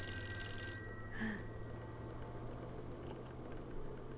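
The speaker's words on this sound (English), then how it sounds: "I need to answer the phone." During a Call of Cthulhu tabletop role-playing session, a quiet telephone ring sounds briefly at the start over a low, steady background hum, then fades into near silence.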